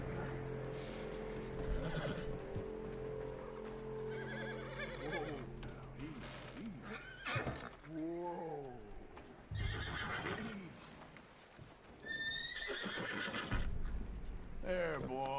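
A horse whinnies several times with loud, wavering neighs amid clip-clopping hooves in Red Dead Redemption 2, while someone talks intermittently over the game sounds.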